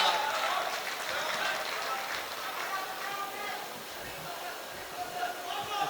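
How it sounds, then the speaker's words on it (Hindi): An audience at a mushaira poetry gathering claps warmly, a sustained, fairly even patter of many hands that carries on for several seconds with voices faintly underneath. "आप लोग खुशी का इजहार कर सकते हैं तालियों के जरिए।"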